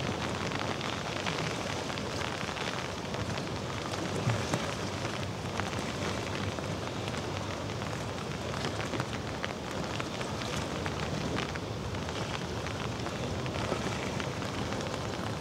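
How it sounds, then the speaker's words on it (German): A brief rain shower sweeps over the Hamburg harbour as a cruise ship gets ready to sail, steady dense hissing of rain and wind buffeting, even and unbroken throughout with no voices. "ein kleiner kräftiger Schauer zieht gerade nördlich vorbei, daher auch der Wind"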